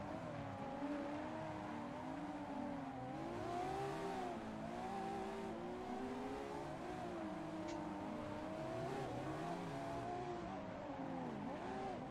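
Race car engine in Assetto Corsa during drift practice, a continuous droning whine with rising and falling revs as the car shifts and accelerates, steady and fairly loud throughout.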